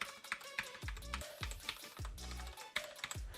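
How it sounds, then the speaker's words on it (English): A Cougar Puri TKL mechanical keyboard with linear switches is typed on up close, a quick run of sharp, clacky keystrokes with deeper thocks from larger keys, uneven in rhythm. "You can hear the two there that don't have stabilizers on the larger keys. They sound great. Even the bottom out sound is pretty good on this."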